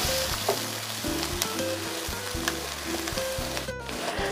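Peanut sauce sweetened with palm sugar is stirred in a frying pan, with a steady sizzle under repeated scraping strokes of the spoon, close and continuous, and no voices.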